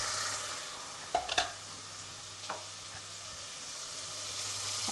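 Two large sliced onions drop into hot oil with cooked ginger garlic paste for a methi mutton curry, making a continuous low sizzle with a cluster of soft clunks early on and another bump later.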